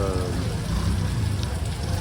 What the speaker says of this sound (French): Et de la bonne pluie là depuis 2 heures, et puis ça caille.